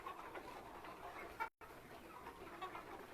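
Tiger chickens on a poultry farm, grown to around two and a half kilograms, cluck and murmur as a steady flock chorus at moderate distance, broken by a brief silent gap midway.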